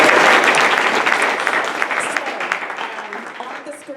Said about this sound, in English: Let's please give him a clap for saying yes.